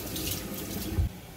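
Buckwheat rinsed under running kitchen tap water, a steady close splashing rush with a brief heavier gush near the end.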